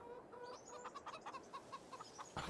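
Chickens cluck and chirp in a farmyard coop in Farming Simulator 22, a busy run of short, fairly quiet calls over a soft background bed.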